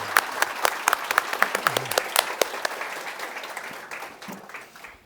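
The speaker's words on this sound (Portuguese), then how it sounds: "Aplauso." Lively audience applause at a Portuguese-language talk, crisp individual claps standing out over a dense crowd wash that slowly fades toward the end.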